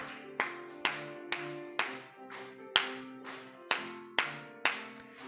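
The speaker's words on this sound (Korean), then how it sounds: "힘차게 박수치며 찬양하겠습니다." A church congregation claps in unison during Korean worship singing at a Wednesday service, about ten sharp, evenly spaced claps ringing in a reverberant room, with held musical tones beneath.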